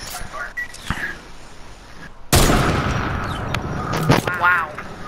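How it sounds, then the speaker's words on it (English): Sniper rifle shots ring out in the video game Fortnite, with a sharp loud crack partway through followed by echoing game noise and fainter shots. "I'm trying to shoot you with this stupid sniper."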